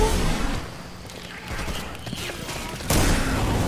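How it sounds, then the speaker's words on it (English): Gunfire in the zombie shooter Left 4 Dead, sharp shots and a sustained burst rising near the end, heard over a busy game soundscape with muffled voices in the background. "Who shot that?"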